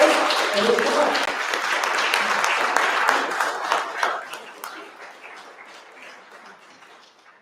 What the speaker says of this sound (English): Let's give both candidates a round of applause